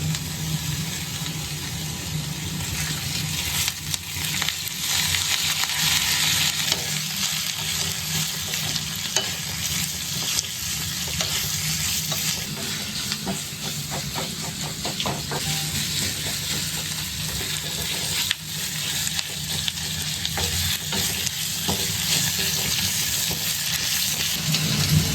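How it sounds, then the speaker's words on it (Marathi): Four onions with ginger and garlic frying in oil in a wok produce a steady close sizzle, broken by repeated scraping and stirring strokes, continuing for the whole stretch without speech. "कांदा भाजायला थोडासा वेळ लागतो, कारण एकतर आपण 4 कांदे टाकलेत"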